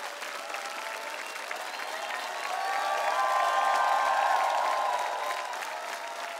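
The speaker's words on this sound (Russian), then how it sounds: "Громогласные аплодисменты всей сотни, всех телезрителей." A television studio audience breaks into thunderous applause, dense clapping mixed with cheers and a few whoops that swells louder midway, then eases slightly.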